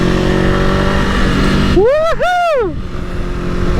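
A Honda NX500 motorcycle engine on the road in Scotland, heard as a steady drone under wind, with two quick rising-and-falling rev sweeps midway while a rider gives a brief excited shout.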